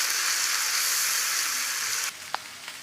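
Ginger, cumin and garlic paste frying in oil with bay leaves and cardamom, a loud continuous hiss that drops away abruptly near the end, followed by a couple of light clinks.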